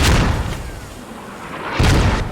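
Two heavy mortar booms in a team shooter match, one at the start and another near the end, with a low rumbling lull between them.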